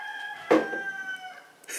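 A rooster crows once at close range, a loud burst with a sustained harmonic tail, with a steady background tone and a brief noise near the end.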